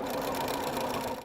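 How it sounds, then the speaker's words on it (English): A sewing machine stitches seam allowances on a paper-pieced quilt block, a steady rapid whirring drone that runs unbroken at close range and stops at the very end. "then we're going to sew those seam allowances"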